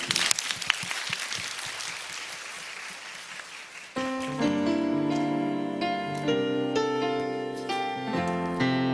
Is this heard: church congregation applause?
yes